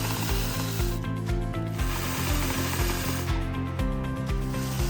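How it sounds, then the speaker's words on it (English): A bike chain runs slowly through the brushes of a Chain Cleaner Pro filled with cleaning fluid while the rear wheel is turned by hand, giving a steady rubbing, ticking rattle with regular mechanical clicks throughout, fairly close and with no talking. "seat the chain into the brushes, and slowly rotate the rear wheel."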